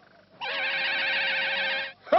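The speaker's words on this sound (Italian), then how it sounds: "Quello è un fischio d'allarme!" An alarm whistle in an animated cartoon gives one long, loud, wavering shrill tone lasting about a second and a half, then a short sharp sound right after it.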